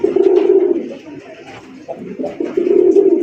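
A male red Raj Golla pigeon coos nearby in a deep, throaty, repeated rolling call, loud and close, with short pauses between bursts.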